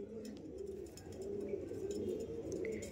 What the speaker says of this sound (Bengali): এটা ছিল মাদি পায়রা, বেলে বডি শেপের পায়রা ছিল মাদি পায়রা